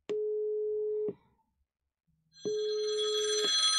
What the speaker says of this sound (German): So, Ruf geht ein. Ich nehme den mal an.